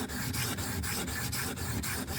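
A chisel is rubbed back and forth on a sharpening stone in a steady rhythm of gritty scraping strokes, about nine even passes, close and continuous with no talk.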